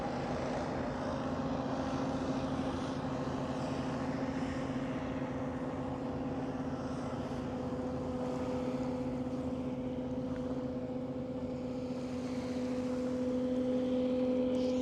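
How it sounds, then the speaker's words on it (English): Motorboats, jet skis and hovercraft run out at sea off the Kent coast, a steady droning engine hum with a strong low tone holding throughout, fairly distant and continuous under wind. "It's getting a bit noisy because there's people out on their hovercrafts, jet skis, motorboats and so on."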